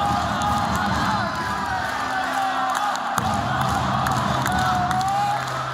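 An arena crowd at a basketball victory over Wolves cheers and chants in unison, a loud sustained roar with rhythmic shouted chanting throughout, barely dipping for a moment midway.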